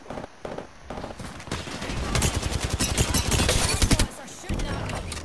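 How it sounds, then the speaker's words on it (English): Rapid automatic gunfire in a shooter game, loud and continuous through the middle of the clip and coming after a few scattered single shots. "I'm shooting."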